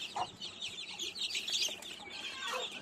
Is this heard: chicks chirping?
yes